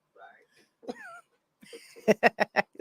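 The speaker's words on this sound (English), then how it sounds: "I'm coughing" A short burst of several quick coughs near the end, close by, after a few brief vocal sounds.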